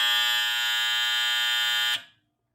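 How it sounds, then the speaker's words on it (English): A loud, steady electric buzz from the tilt buzzer under the tilt mechanism of an electromechanical pinball machine, holding evenly for about two seconds before cutting off abruptly, heard alone. "making this buzzer here under the little tilt mechanism stay on for only a few seconds"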